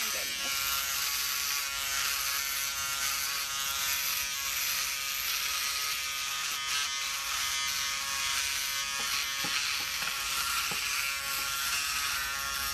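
An electric razor shaves a man's beard, a continuous close buzzing drone with slight shifts as it moves across the face, running steadily throughout with no talk.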